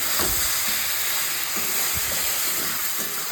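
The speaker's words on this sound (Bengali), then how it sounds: "মোচার তরকারিটা করবো, তো মশলা কষছি, হাফ কষা হয়ে গেছে" Spices for a banana flower curry are sautéed in a pan, with a continuous close sizzle and hiss and soft irregular stirring knocks, no talk.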